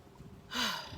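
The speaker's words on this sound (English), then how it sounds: "And as I take a breath, I already feel it." A deep breath drawn in through the lungs during a pranayama breathing practice, heard as a short, close airy inhalation that swells about halfway through and holds steady to the end, with no talk over it.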